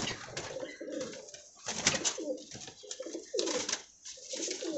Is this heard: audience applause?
no